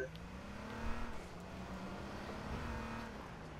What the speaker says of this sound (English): I'm pulling up in the car, y'all.